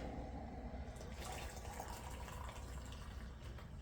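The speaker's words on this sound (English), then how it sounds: "Fill it about 2/3 of the way with water." Boiling water pours steadily into a mug for a few seconds, a close, continuous splashing fill with no talking.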